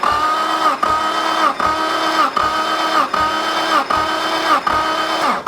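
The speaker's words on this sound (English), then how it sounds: "So now, I want to go through and crank for cylinder 1 testing." An engine cranking over with the starter during a cylinder compression test, a loud steady whirring drone pulsing in even strokes about seven times in a row, close by and with no talk.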